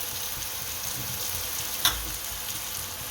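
A frying pan sizzles steadily as cumin, garam masala, turmeric, salt and chili are stirred in for Gujarati sev usal, with one sharp scrape of the spoon near the middle.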